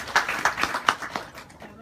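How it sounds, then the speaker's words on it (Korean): A few scattered hand claps from a small audience at a beauty-treatment seminar demonstrating a galvanic device, brief and uneven, with voices murmuring in the background. "여기 박수 한번 부탁드릴게요"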